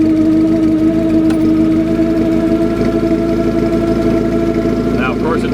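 Car engine without a choke held at about 1,500 RPM, a steady, loud mid-pitched rumble with an even throb throughout and a brief voice near the end.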